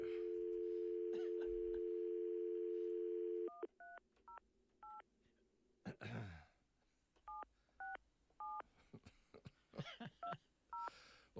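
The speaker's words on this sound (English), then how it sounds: "I can't hardly dial a phone" Touch-tone telephone keypad tones: a steady dial tone for several seconds, then a series of short paired beeps as numbers are dialed, with a thump and small handling noises between them.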